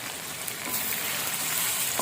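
Chilli powder, turmeric and cumin powder frying in a pan for chicken palak, a soft, steady sizzle with fine crackling, fairly quiet and unbroken for a couple of seconds.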